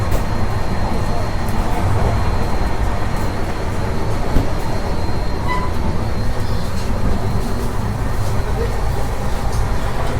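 Steady rumble and rattle inside a moving Indian train carriage near the pantry where food is cooked on gas, a continuous loud broadband roar throughout with faint background chatter.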